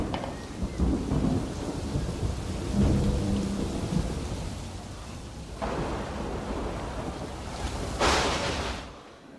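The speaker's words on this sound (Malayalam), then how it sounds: "മഴ തിമിർത്ത് പെയ്യട്ടെ." Heavy rain pours steadily while low rolling thunder rumbles and two sharper cracks of thunder break through, loud and close, with no voices.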